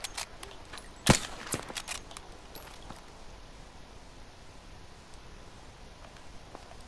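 Gunfire in Battlefield V, a single sharp shot standing out with a few lighter cracks and clicks around it, then a quiet stretch of faint background noise and scattered soft taps.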